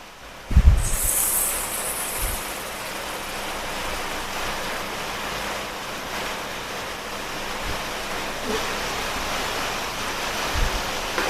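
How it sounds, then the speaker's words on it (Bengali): Jackfruit juice poured into hot ghee in a pan sets off a sudden loud burst of sizzling that settles into a steady, broad frying hiss, with a few faint knocks. "এখন গরম ঘিয়ের মধ্যে দিয়ে দিচ্ছি আমি কাঁঠালের রস"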